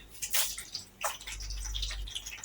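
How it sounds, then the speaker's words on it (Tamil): Mustard seeds spluttering in hot oil, giving a few sharp crackling pops over a soft, steady sizzle, close by and without voices. "அங்கே பாருங்க, கடுகு பொரிஞ்சிருச்சு."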